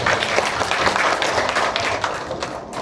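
Sustained audience applause at the end of a photography lecture on star trails and Milky Way shooting, a dense, steady clapping from a full room lasting throughout, fading slightly near the end.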